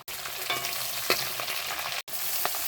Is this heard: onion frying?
yes